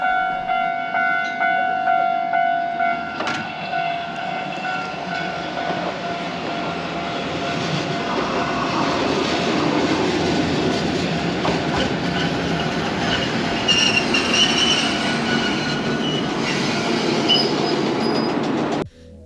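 A tram in Kyoto rumbles steadily along the tracks for the whole stretch, approaching Kurumazaki Jinja station, loud and close, with a sustained tonal hum and metallic rattling that builds toward the end.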